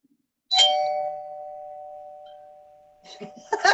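A doorbell sounds once, a single chime whose ringing tone fades slowly into silence, after which voices begin talking.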